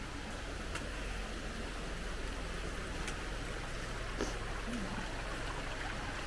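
Water rushes in a steady, broadband hiss by the water wheel of an old, long-unused watermill at a distillery, continuous and fairly distant-sounding, with faint scattered noises in the background.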